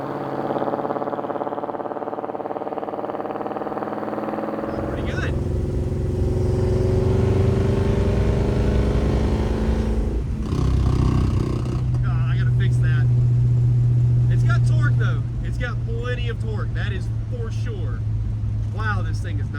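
A 1958 Plymouth barn-find car engine drives a pass, a steady loud running drone that swells and shifts, with someone speaking over it toward the end.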